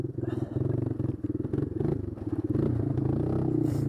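An old Yamaha Moto 4 ATV with a sticky throttle idles and runs steadily close by, its engine note rising and firming up in the last moments as it is put into first gear.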